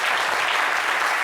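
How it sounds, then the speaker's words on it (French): Studio audience applause on a TV entertainment show, a dense even burst of many hands clapping at once, loud and steady without talk. "Je vous applaudis."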